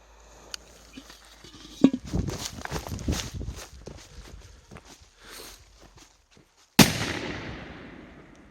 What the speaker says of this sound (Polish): O, i to jest petarda.